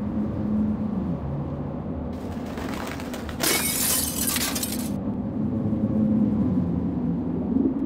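Dusty window glass is smashed by a rag-wrapped hand in the Nibiru adventure game, one sharp shattering burst with tinkling shards over a low steady ambient rumble.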